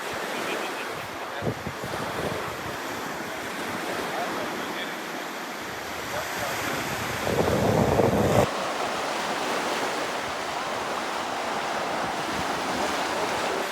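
Surf washing onto a beach in a steady, continuous roar, with wind buffeting the microphone and a louder swell of breaking water partway through; no one speaks.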